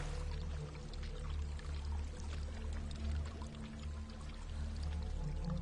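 A waterfall in the game Hellblade: Senua's Sacrifice gives a steady, broad, rushing roar that holds even and continuous throughout at moderate level, with no voices over it.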